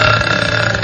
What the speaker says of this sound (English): She burps so much.